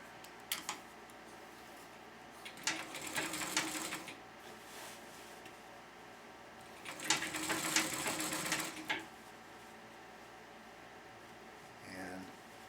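A sewing machine stitches quilt binding in two separate bursts of quick rhythmic clatter with quiet pauses between. Faint handling noises and a brief voice are also heard.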